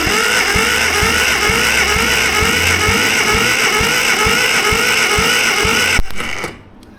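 A Mini Clubman GT engine cranks on its starter during a compression test: loud, close, steady rhythmic chugging pulses that cut off abruptly near the end.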